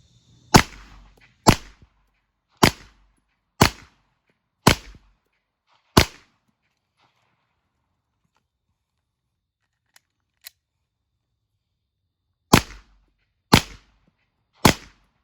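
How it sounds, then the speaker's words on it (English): Pistol shots during a reload drill on a range: a quick string of six sharp loud cracks about a second apart, a pause with faint clicks from the magazine change and slide, then three more evenly spaced shots. "get another magazine out, get it into the gun, close the slide, and then put another 3 rounds on the target."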